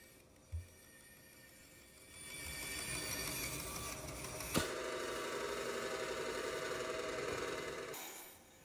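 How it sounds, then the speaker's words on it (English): A bandsaw runs with a blade about to break, its steady machine drone starting after a brief thump and carrying a continuous rapid clicking, with a sharp knock midway and the motor cutting off near the end. "That clicking? That's the sound of a bandsaw blade that's about to break."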